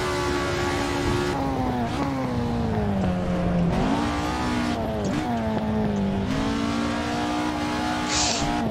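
A Ford RS1600 race car's engine drones loud and constant around the Nordschleife in a racing video game, its pitch rising and falling through repeated gear changes and braking, with no talk.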